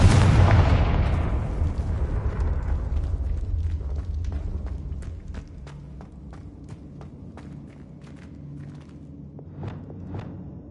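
A Confringo explosion spell in a Harry Potter video game, a loud booming blast at the start that decays into a long rumbling tail, with scattered sharp clicks and light footsteps continuing afterward.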